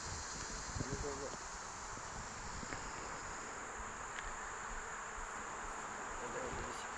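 A steady, low buzzing hum of many honey bees close by at a hive, with faint rustling and a few brief muffled sounds over it.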